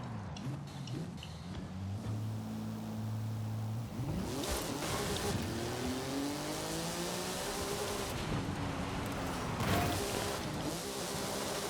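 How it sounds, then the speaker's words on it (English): A car in Forza Horizon 5 held in a wheelie accelerates to about 100 mph, its engine droning and rising through gear changes in a continuous, fairly loud game roar without speech. "Let's see what kind of speed we can get in a wheelie"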